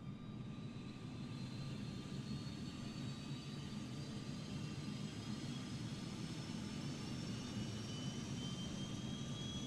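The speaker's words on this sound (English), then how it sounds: "Let's start the APU. All right, so that is activating or starting up." An Airbus A321neo auxiliary power unit spooling up in Microsoft Flight Simulator 2020, a steady loud whine and rumble with faint rising tones, continuous throughout with no talk.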